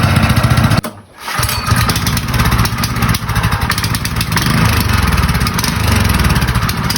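A small engine, just cleaned after refusing to start, runs loud and steady up close, with a brief dip and sputter near the start before settling into a continuous, even roar.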